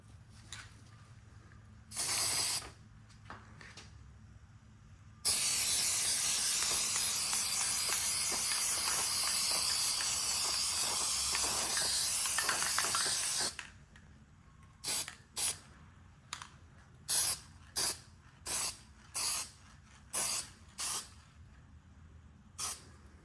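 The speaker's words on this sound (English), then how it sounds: "I'm gonna respray just to make sure if you're looking through the grill at this angle" An aerosol can sprays Plasti Dip onto the grille of a 2019 Audi Q5, with a few short hisses, one long continuous spray, then a rapid series of brief regular bursts, loud and close.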